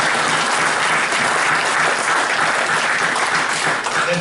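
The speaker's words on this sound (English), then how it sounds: "So please give them a round of applause." Loud, sustained applause from a room of attendees at a school board meeting, dense and even clapping throughout with no pauses.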